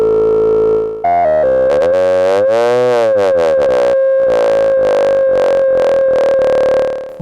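Endorphin.es Furthrrrr Generator Eurorack oscillator hard synced to oscillator 1, a loud buzzing synth tone whose harsh overtones sweep up and down in swooping, pulsing waves for several seconds before holding steadier.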